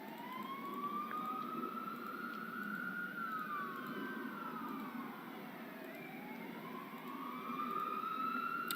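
Emergency sirens wail from far away, a faint rising and falling tone that sweeps slowly over a steady background hum.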